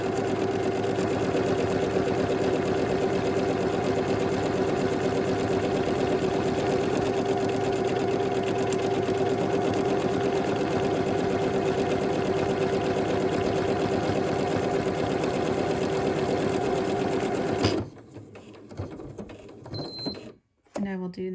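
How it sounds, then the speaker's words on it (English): A dedicated buttonhole sewing machine stitches a buttonhole in a cotton floral sundress, a loud steady mechanical whir with a rapid needle rhythm running for about eighteen seconds, then cutting off to quiet handling clicks. "have a separate machine basically just for buttonholes, so I'll line that up and sew the buttonhole"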